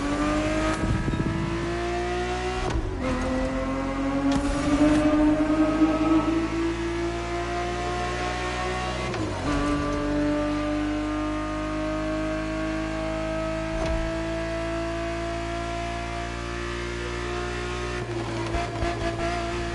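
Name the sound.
Ferrari 365 GTB4 engine revving, from video game The Crew Motorfest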